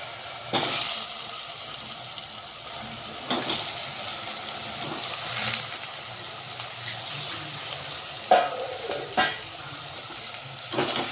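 Eggplant stirred and fried in masala, a steady sizzle under repeated spatula scrapes and swishes at irregular intervals, close and moderately loud, with no talking.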